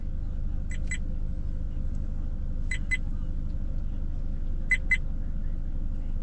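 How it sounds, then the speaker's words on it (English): A VIOFO A119 V3 dash cam gives three short paired electronic beeps, spaced about two seconds apart, over a steady low engine-like rumble. "Stop beeping!"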